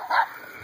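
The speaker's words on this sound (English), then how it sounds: "Stop barking, dogs." A dog gives one short, sharp yip or bark, close and fairly loud, then quickly falls back to quiet.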